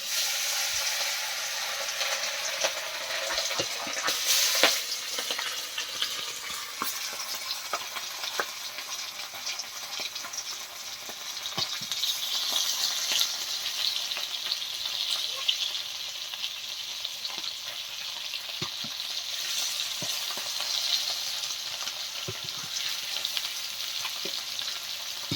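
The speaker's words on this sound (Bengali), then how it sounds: "আবার চুনো মাছ আছে কিছু, ওই ভাজা করছি" Small chuno mach fish frying in a pan, a steady crackling sizzle that runs continuously for the whole stretch, close, with occasional pops and spatters and no talk.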